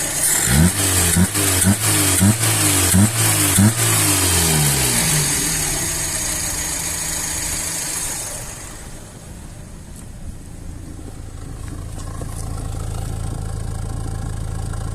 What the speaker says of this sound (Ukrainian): Ось такий вихлоп, ніяких немає пухкань, нічого такого.